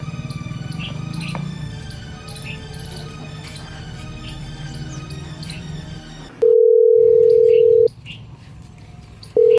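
Telephone tones on a call: a loud, steady electronic beep sounds alone for about a second and a half, then repeats briefly after a gap, following a stretch of room noise with people talking.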